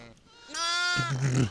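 Sheep and lambs bleat in a farmyard: a drawn-out, wavering bleat is followed by a lower, rougher call, both close and loud, with faint background noise before them.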